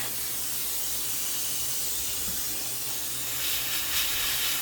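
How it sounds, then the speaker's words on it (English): Metal is spot welded on off-grid power with a continuous, close, crackling hiss that holds steady and swells slightly near the end. "And then I'm going to do a little spot welding right here."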